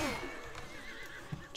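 A horse neighs in the medieval combat video game A Clash of Kings, a short, close whinny with a falling pitch at the start, followed by quieter game noise.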